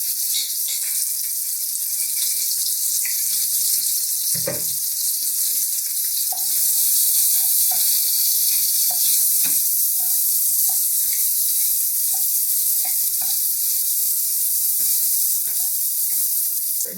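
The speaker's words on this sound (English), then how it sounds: "So for the onions, I want to cook them until they are kind of a brown." Onions frying in oil in a pan, a steady bright sizzle throughout with occasional scraping stirs and small clicks, close and fairly loud, with no talking.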